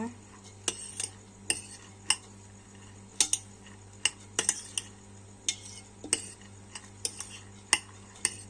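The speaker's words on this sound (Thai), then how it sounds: "เราก็ใส่ไปเลยค่ะ แล้วก็คลุก ผสมให้เข้ากันนะคะ" Soybeans being tossed and mixed with vinegar in a bowl while making tempeh, heard as scattered light clinks and scrapes of a utensil against the dish, spaced irregularly over a steady low hum, with no talking.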